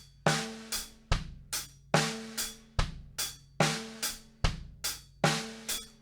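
Drum kit playing a linear pop groove with bass drum and snare alternating and hi-hat only on the offbeats, a steady, clean pattern of sharp hits alone without talking.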